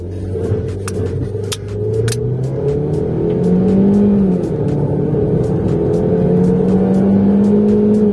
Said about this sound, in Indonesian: kita akan coba 0 sampai 100 dari mobil ini